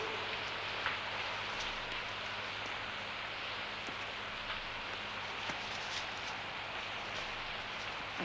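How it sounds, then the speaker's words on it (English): Heavy rain falling outside makes a dense, unbroken hiss that stays steady and moderately loud throughout, with faint low rumble underneath and no voices. "The way it's raining out?"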